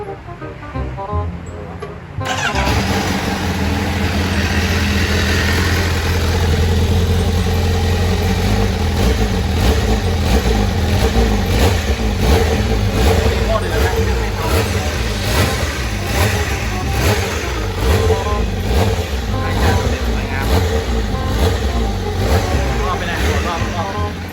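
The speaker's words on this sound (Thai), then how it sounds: "ขออนุญาตสตาร์ทให้ฟังหน่อย รถใหม่นะ เราจะมาฟังนะครับท่อชุดนี้" A factory-exhaust 2021 Honda CBR1000RR-R SP superbike fires up after a short quiet moment, then idles loud and close with steady rumbling and repeated revving blips through the rest of the clip.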